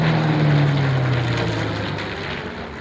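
A World War I aircraft flies a display at the Duxford Flying Legends air show in 2011, its propeller engine droning loudly overhead and then slowly fading as it passes.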